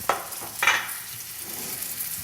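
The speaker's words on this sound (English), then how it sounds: "here we got that nice little sizzle." Oil crackles and sizzles in a hot pan, with a couple of brief bursts as food or a utensil stirs it, then a softer steady hiss.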